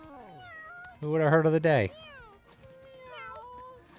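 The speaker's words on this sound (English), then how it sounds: "A black cat named Mally." A black cat in a video game gives a loud, drawn-out meow over a second long, framed by a voice talking over shorter game sounds before and after.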